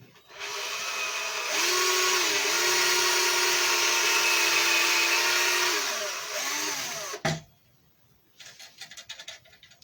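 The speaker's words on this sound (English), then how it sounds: "they're not going to be able to see me drilling it." A power drill bores into a wooden fence wreath, with a loud steady whine for about six seconds and slight pitch dips as the load changes. It then stops with a clunk, followed by quieter scattered handling noises.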